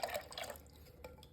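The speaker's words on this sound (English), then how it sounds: "we have 16 ounces of evaporated milk that we're going to pour into it" Evaporated milk pours into pumpkin puree for a dump cake, a soft liquid trickle and splash that is close and quiet, with a faint clink near the end.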